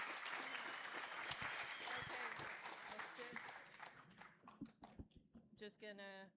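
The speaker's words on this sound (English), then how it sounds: "Give a huge round of applause to Jaime." Event audience giving a round of applause to a presenter, a full, close wash of clapping for several seconds that thins out, followed by a few scattered claps and a brief voice.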